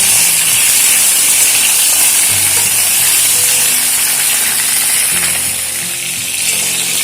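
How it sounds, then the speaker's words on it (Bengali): Slit pointed gourds (potol) fry in hot oil, giving a loud, steady sizzle and hiss that runs unbroken throughout, close and alone without any talk. "পটলগুলোকে খুব ভালো করে ভেজে নেব।"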